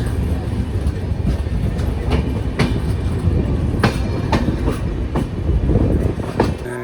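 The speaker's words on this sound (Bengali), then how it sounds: "এইভাবে ট্রেন চলছে" Darjeeling Mail train running from Sealdah toward New Jalpaiguri, a steady, loud rumble from on board with repeated clickety-clack wheel beats over rail joints throughout.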